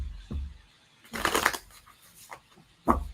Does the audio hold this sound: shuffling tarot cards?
yes